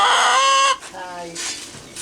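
Chickens cluck loudly and close by during the first part, followed by softer, intermittent clucks and calls, with no talk over them.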